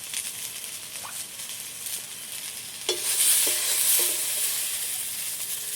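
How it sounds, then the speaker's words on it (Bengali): Soya chunks fry gently in hot oil with salt and turmeric, giving a soft, steady sizzle and patter with a few light stirring clicks, fairly quiet and close, without speech. "লবণ হলুদ দিয়ে ভেজে নেব।"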